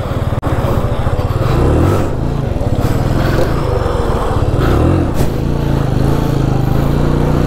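A KTM motorcycle engine runs loud and close during wheelie practice, with a steady throbbing drone and a few surges in revs.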